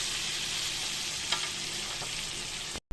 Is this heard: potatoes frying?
yes